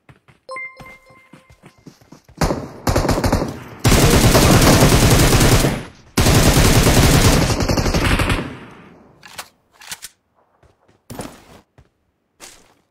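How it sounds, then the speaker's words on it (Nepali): Bursts of machine-gun fire in PUBG Mobile, loud and near, with two long sustained volleys in the middle framed by shorter bursts and scattered single shots and thuds before and after. "के हो यार मिसिन गन पड्कायो त नि"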